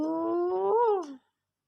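A cat gives one drawn-out, loud, close meow that rises and then falls before stopping abruptly into silence.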